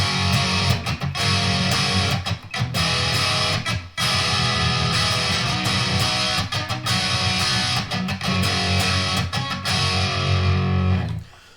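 Distorted electric guitar plays the intro riff of a song, a steady, loud run of chugging bar chords with brief muted gaps between phrases, played alone.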